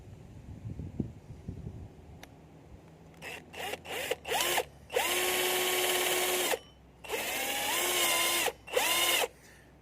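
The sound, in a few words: power drill drilling a hole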